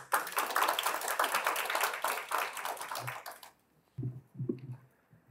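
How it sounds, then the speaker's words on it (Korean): An audience at a seminar debate welcomes a professor with a burst of dense clapping for the first three and a half seconds, then stops abruptly, leaving a few soft thumps and handling noises. "교수님을 박수로 앞으로 모시겠습니다."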